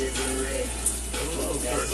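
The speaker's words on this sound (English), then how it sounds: "He's just rinsing off a pour that he did." Water rinsing off a simulated wood pour, a steady close gushing wash like a running hose or tap that continues without a break for the whole two seconds.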